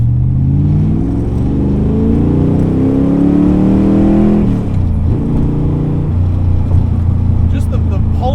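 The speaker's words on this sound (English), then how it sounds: "Just the pulses of the engine making their way into the cabin." A 1965 Shelby Daytona Coupe replica by Superformance heard from inside the cabin, its engine pulsing and rising in pitch as it accelerates, then dropping after a gear change and droning steadily, loud and close.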